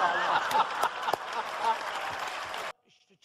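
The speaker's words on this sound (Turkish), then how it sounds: "alkış sesleri yükseldi" Dense applause from a studio audience during a live television broadcast fills the space for a few seconds, then cuts off abruptly into quiet.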